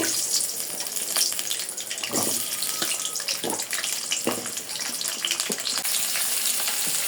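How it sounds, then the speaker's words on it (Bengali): Papaya pieces fry in hot oil in a wok, giving a steady close sizzle throughout with occasional scraping stirs and no talking. "কয়েকটা পেঁপে ভাজি করে নেব"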